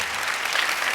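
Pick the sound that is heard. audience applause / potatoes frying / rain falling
audience applause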